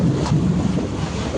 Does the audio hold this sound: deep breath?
no